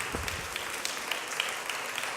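Graduates and their family members applaud at a graduation ceremony, a steady wash of clapping that sounds somewhat distant and even in level throughout.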